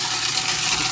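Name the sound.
tap water running into a garbage disposal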